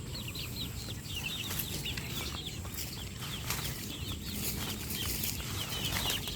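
Young chicks in an improvised pen peep continuously in a dense, steady chorus while being given feed and water, with scattered clucks and light wing flutters close by and no talking.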